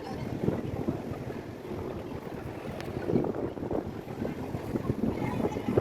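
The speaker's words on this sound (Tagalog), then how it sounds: "Lakas ng hangin." Steady, gusty wind buffeting the microphone, a continuous rough roar with no voices, on the Avenue of Stars waterfront in Tsim Sha Tsui, Hong Kong.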